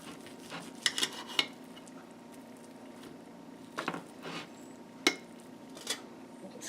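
A knife cutting a cooked filet mignon steak on a plate after griddling: a few soft scrapes and sharp clinks of blade against the plate, close but quiet, with short pauses between strokes.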